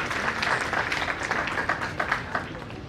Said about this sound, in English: Give him a big clap while he speaks